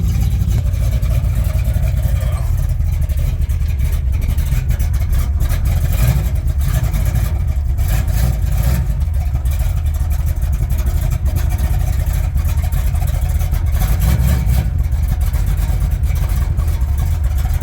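A 1958 GMC pickup truck on a short test drive, running with only front brakes, its engine rumbling loud and steady close by as it pulls and accelerates, with road and cab noise throughout and no talk.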